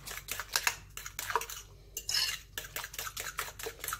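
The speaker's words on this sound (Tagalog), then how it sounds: "Then, imimix natin yung egg." Egg is beaten in a bowl with a utensil for apple kiwi pancake batter, giving quick, rhythmic clinks and scrapes against the bowl, close up and without talking.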